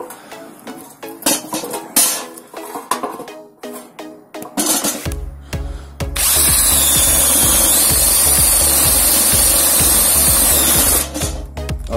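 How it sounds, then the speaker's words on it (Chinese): Bosch GSB 180-LI 18V cordless drill drilling a hole with a wood bit, preceded by scattered handling clatter, then a loud steady whirring drone for about five seconds before stopping. "那接下来来打个洞吧"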